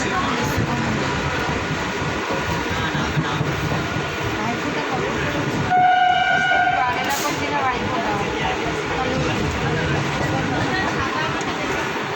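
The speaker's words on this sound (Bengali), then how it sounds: "ট্রেনে যাচ্ছি, ট্রেন থেকে নামবো।" A passenger train bound for Naihati rumbles steadily, with a loud horn blast about halfway through. A murmur of voices carries under the constant running noise.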